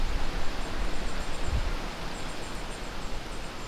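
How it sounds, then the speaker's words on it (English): Strong gusty wind, about 21 mph, blowing through trees outdoors, a constant broad rushing roar with leaves rustling that swells early and then eases slightly, loud and near. "It's just really super windy."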